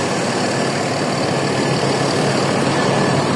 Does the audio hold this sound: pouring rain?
no